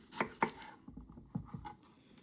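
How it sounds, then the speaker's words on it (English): A knife chops an onion on a cutting board while Cajun gumbo is being prepared, with a handful of crisp, irregular thuds, close and fairly quiet, in an otherwise hushed kitchen. "Chop up your onion, people."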